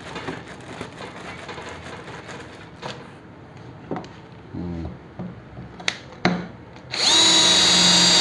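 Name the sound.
Bosch GSR 1080 Li cordless drill drilling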